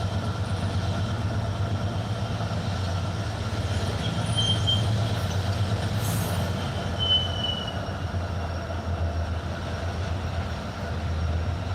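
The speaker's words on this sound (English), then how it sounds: "And another train." A train rolls past steadily for the whole stretch with a continuous heavy rumble of wheels and cars. High, thin wheel squeals come and go, and no one speaks.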